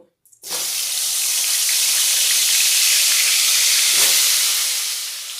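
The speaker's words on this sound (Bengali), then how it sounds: "চিকেনের জন্য আমি সাদা তেলটা গরম করে নিয়েছি চিকেনটা আমি সাদা তেলে বানাবো আর ওতে হলুদ গুঁড়োও দিয়ে দিয়েছি এবারে আলুগুলো দিয়ে দেব" Potatoes drop into hot white oil seasoned with turmeric and start frying, a sudden loud sizzle that stays as a steady close hiss, with a brief burst partway through.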